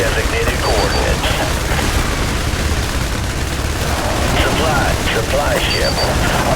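Airstrike explosions and gunfire in the video game IS Defense make a continuous loud barrage of rapid shots and booming blasts, dense and sustained throughout.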